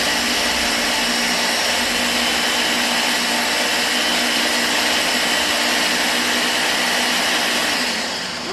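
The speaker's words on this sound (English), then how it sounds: "we're gonna mix, puree it. Very fine." A blender purees a sauce containing about a teaspoon of apple cider vinegar, giving a loud, steady motor whir that runs unbroken for several seconds and then tapers off at the end.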